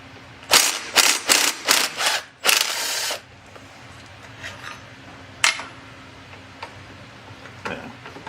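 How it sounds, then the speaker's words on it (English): A ratchet wrench unbolting a brake caliper on an old Polaris ATV, a quick series of loud close ratcheting clicks followed by a few isolated metallic ticks and clunks in a quiet garage. "But let's unbolt this caliper."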